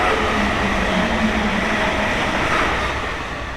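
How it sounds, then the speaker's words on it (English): A train rumbles past close by in a steady, loud broadband roar that holds for several seconds and eases slightly toward the end, with no voices over it. "Damn train."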